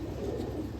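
A breeder female pigeon gives a single brief, low, soft coo, close by and alone.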